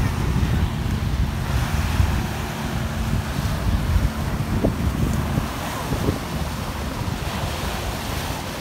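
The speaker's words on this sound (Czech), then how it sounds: "Takže tohle je moře v Miami" Ocean surf at Miami Beach, a continuous loud rush of breaking waves mixed with steady wind buffeting on the microphone, with no voices.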